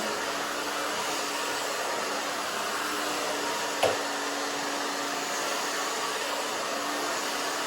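A hair dryer blows steadily as shoulder-length hair is dried with a round brush, a loud continuous whoosh that holds for the whole stretch, broken only by one brief knock partway through; no one speaks.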